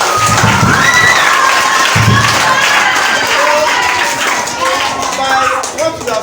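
An audience applauds and cheers at a discussion event, a dense loud wash of clapping and voices with a few shouts rising above it.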